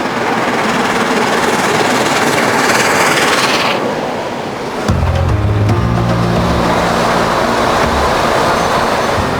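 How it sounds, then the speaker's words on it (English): Steam locomotive Tornado running fast on the East Coast main line, heard as a loud roaring rush of wheels and exhaust that drops away midway into a rattling, rhythmic clatter. "Before long, the loco is settling into its stride again on a part of the East Coast line known"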